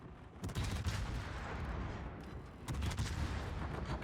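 Warship 150 mm guns firing armor-piercing shells in a naval video game, a dense, continuous barrage of heavy booming blasts with two louder surges of fire.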